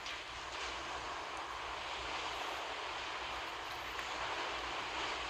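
Aircraft engines drone in the Naval Creed naval battle game, a steady, faint, even hum mixed with a wash-like noise and no gaps.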